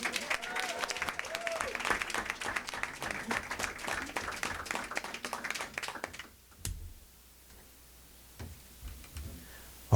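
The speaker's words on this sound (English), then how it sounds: "please give these two young men another round of applause" Audience applause for two young men at a college signing: a steady stretch of light, fairly distant clapping under a murmur of voices lasts about six seconds, then fades into near silence with a few scattered taps.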